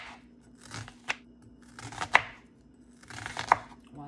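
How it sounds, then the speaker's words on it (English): A knife thinly slices an onion on a cutting board, giving a few sharp, close chopping taps spaced irregularly over a quiet background. "And I'm gonna slice it and just get to thin slicing."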